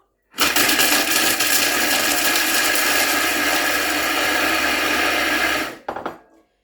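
A Thermomix runs at speed 7 for about five seconds while mixing cake ingredients, giving a loud, steady, close whirring roar that starts abruptly and stops sharply, followed by a brief rattle.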